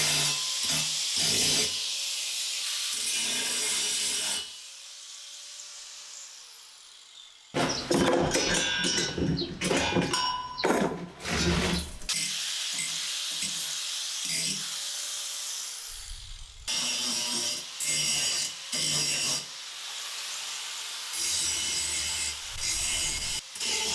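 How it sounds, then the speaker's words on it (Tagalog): A surface being ground during a concrete-finish home makeover: harsh, loud grinding in long bursts separated by short pauses and stretches of choppier scraping, with a faint voice in the background. "Grinding this."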